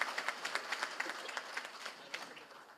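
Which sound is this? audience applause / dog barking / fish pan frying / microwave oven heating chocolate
audience applause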